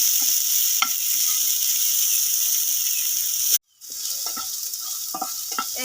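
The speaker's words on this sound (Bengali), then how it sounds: "এই দেখেন আমার সুন্দর করে এগুলো মশলাটা ভাজা ভাজা হয়ে গেছে।" Spices frying and being stirred in a pan for homemade flour noodles, a steady bright sizzle with repeated scraping stir strokes, broken by a brief pause midway before the frying resumes.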